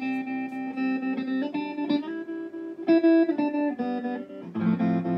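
An electric guitar played through a Fender Deluxe Reverb tube amp with the reverb intensity turned way up rings out in a series of clean chords and notes, each strike trailing a splashy wash of reverb.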